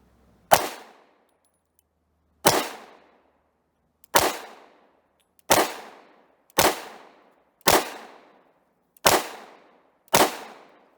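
Eight sharp, loud pistol shots from a Romanian TTC Tokarev firing 7.62x25mm at an outdoor range, spaced irregularly about one to two seconds apart, each with a short ringing decay and quiet between shots.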